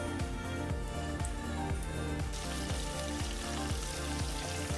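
Chicken drumsticks deep frying in hot oil: a steady, dense crackling sizzle throughout, with a repeating low rhythmic thump underneath.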